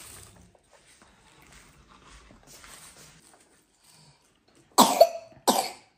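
A young child coughs twice in quick succession, two sharp, fairly loud bursts near the end after a stretch of quiet household background.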